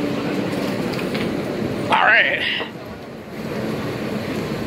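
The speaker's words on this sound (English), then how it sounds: "We're on the E train." A New York City subway E train, an Alstom R160A car, rides along with a steady low rumble and rolling hum, a brief hiss or chime in the middle, while someone speaks briefly nearby.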